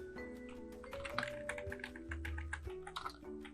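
Steady typing on a computer keyboard, quick clustered key taps running close and clear through the whole stretch, with musical tones playing underneath and no voices.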